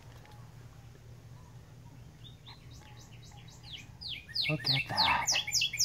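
A jay at a desert museum gives a burst of loud, harsh calls near the end, rising out of quiet background hum, with a person speaking briefly beforehand.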